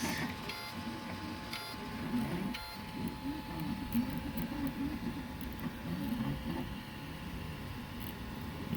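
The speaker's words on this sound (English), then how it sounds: "this is one of my faster printers" A fast 3D printer, recently fitted with an all-metal hot end, runs a print with a low, warbling whir of stepper motors moving in shifting patterns, with a faint steady tone above.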